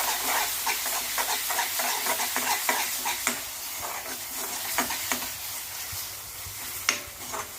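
Chickpea and potato gravy with chilli powder, salt and turmeric frying in a pan, stirred with a steady scraping rhythm over a constant close sizzle, with occasional sharper spoon knocks and no talking.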